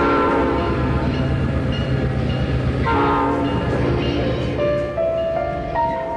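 Train pulling away from Beijing, with a loud, sustained horn over the rumble and rolling clatter of the wagons, heard close and continuously throughout.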